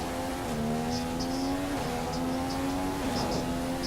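Sauber Formula 1 car in the F1 2016 racing game, a steady high engine whine that shifts pitch with gear changes and throttle lifts, heard from the car throughout with no talking.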